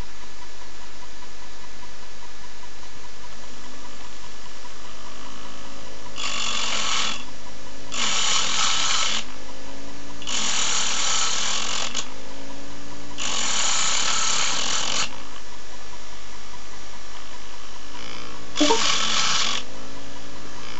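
Steel rods for magnetic formers are cut to length with a power tool, heard as four loud, harsh bursts of grinding noise lasting one to two seconds each, with a shorter burst near the end and quiet pauses between.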